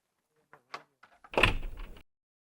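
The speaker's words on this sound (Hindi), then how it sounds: "खोल दरवाजा।" A door is opened: a few light clicks of the latch and handle, then a louder rattling slide or swing that lasts about half a second, close by and with no talk.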